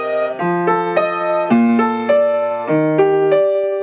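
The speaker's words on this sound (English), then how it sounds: "And if I play them separately with the bass note to start with," Slightly out-of-tune piano plays guide tones separately, each bass note struck first and followed by upper notes, forming a steady rolling pattern of close, ringing chords with no talking.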